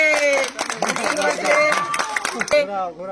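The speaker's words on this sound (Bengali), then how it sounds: "হাততালি" Audience clapping at a children's prize game, the applause a continuous patter of claps mixed with cheerful voices and chatter throughout, fading near the end.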